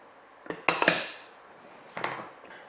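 Dry cupcake batter ingredients of flour, cocoa powder and baking soda are mixed in a bowl, giving a few sharp utensil clinks and taps against the bowl in two short bursts, with no talking.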